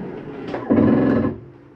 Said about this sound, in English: that is just the slide mechanism telling you I'm in all the way